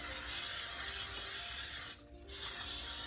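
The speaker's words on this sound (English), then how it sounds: "I'm gonna spray my glass dish." Cooking spray hisses steadily into a glass baking dish, a close, continuous aerosol spray that cuts out briefly near the end before resuming.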